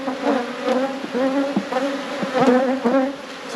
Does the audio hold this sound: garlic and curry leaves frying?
no